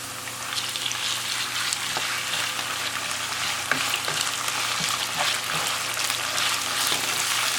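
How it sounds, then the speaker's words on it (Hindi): Minced mutton keema fries with light-browned onions in a pan, a close, steady sizzle with occasional crackles and stirring scrapes running unbroken, with no talking over it. "कीमे को आप फ्राई करेंगे,"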